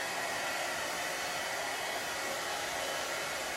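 A heat gun blows hot air in a steady, continuous broadband whoosh while spring centerpiece decorations are crafted, holding constant with no talk.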